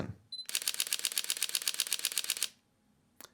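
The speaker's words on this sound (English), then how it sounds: "you can shoot up to 11 frames per second with this new camera" A rapid, steady burst of Sony A6700 mirrorless camera shutter clicks at up to 11 frames per second, about twenty frames, close and crisp, followed by a single click after a pause.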